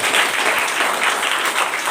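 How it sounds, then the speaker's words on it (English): A school quiz audience of children and adults breaks into loud, dense applause. The clapping is continuous, close and full, with no talking on top. "You should clap for yourself."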